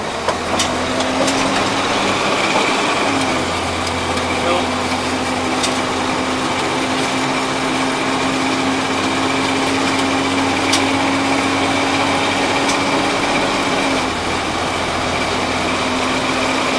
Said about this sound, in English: Now we're gonna roll up the hill, get the transmission going, throw a few gears